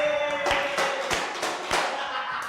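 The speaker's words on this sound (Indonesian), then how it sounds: "Tepuk tangan." A small audience at a stand-up comedy show applauds, with a handful of sharp, sparse claps and thumps over a few seconds, fairly close and moderately loud, with faint background murmur.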